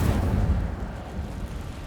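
A fiery Incendio spell cast in Hogwarts Legacy bursts out as a loud, low rumbling whoosh, like a small explosion, and fades slowly over about two seconds.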